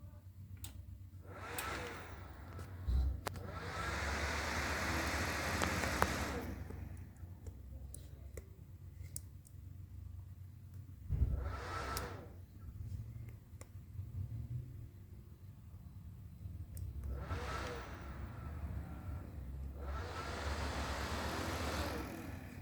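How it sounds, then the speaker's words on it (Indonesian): A desktop computer with an LGA1155 motherboard powers on, fans spinning up into a soft whooshing hum that rises and falls in several swells over a low rumble, with occasional clicks, quiet and in a small room. "Oke, kita nyalakan komputer."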